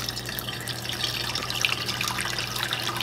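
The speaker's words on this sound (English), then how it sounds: "I'm just gonna pour this until it comes up to the 500 milliliter mark" Water pours steadily into a measuring container, a continuous close splashing and trickling stream with no speech.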